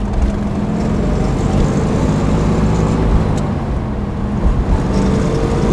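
1964 Chevrolet Corvette with a 327 small-block V8 pulling away from a stoplight, heard from inside as a loud, steady engine drone and road rumble throughout.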